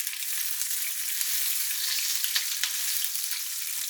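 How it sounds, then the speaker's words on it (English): Shallots and Indian bay leaf sizzle in hot oil in a pan, a bright, even hiss up close with a few sharp stirring clicks and no speech. "And then into that I want to go my shallots, and we'll give all that a stir."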